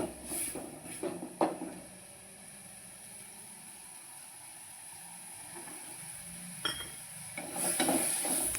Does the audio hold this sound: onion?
yes